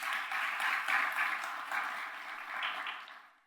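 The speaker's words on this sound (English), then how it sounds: "Let's give them a round of applause." A room at the Guilford County State of the County Address claps for the Guilford delegation, a dense, even wash of applause from a moderate-sized crowd that holds steady and then fades out toward the end.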